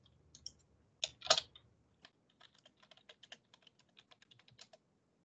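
Keys clack on a computer keyboard in a quiet room, a quick burst of several strokes followed by a steady, uneven run of lighter individual taps, close and fairly soft.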